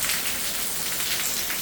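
Heavy rain pours down outside near a house gutter during a storm, a dense, steady close hiss with no voices.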